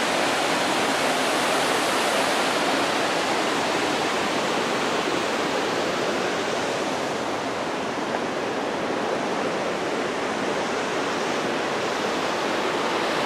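Potato River Falls roars with a steady broadband rush of falling water, constant and enveloping with no voices heard.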